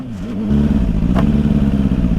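A Suzuki GSR600 superbike being ridden on a long ride in Nepal gives a loud, steady engine drone with a low rumbling hum that holds without a break for a couple of seconds.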